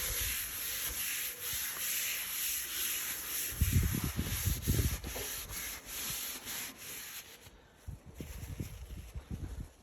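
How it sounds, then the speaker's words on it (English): Repeated rough rubbing strokes wiping a freshly sanded metal griddle surface, close up, with a brief pause before a few more wipes; no talking. "Now I'm just wiping it off."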